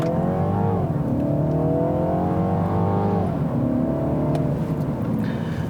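A 2018 Mini Cooper Clubman S engine drones and revs steadily while driving on the road, pitch rising and falling with gear changes, loud and close throughout.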